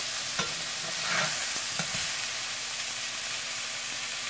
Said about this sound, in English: We're going to let these burgers cook down just a little bit more.